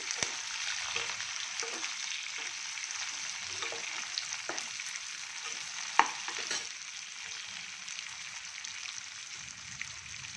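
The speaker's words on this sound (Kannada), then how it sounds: "ಇವಾಗ ನೋಡಿ, ಈರುಳ್ಳಿ, ಮೆಣಸಿನ್ಕಾಯಿ, ಕರಿಬೇವಿನ ಸೊಪ್ಪು ಹಾಕಿದ್ದೀನಿ. ಇದು ಸ್ವಲ್ಪ ಫ್ರೈ ಆಗಲಿ" Onion, green chilli and curry leaves sizzle steadily in a hot oil tempering for a Kannada-style gojju. The hiss runs continuously throughout, broken by occasional soft stirring taps and one sharp clink near the middle, with no voices.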